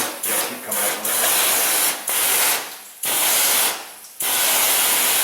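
Flush liquid and air hiss hard out of a car heater core hose in loud, broad spraying bursts with brief dips between them, close to the microphone, and no one talks.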